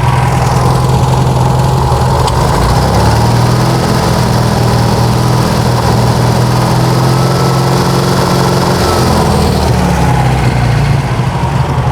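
A 1966 VW Type 3 Fastback with an idle circuit fault idles roughly and sluggishly, its loud, steady engine drone close by and uneven, with occasional pops from the exhaust and no voices.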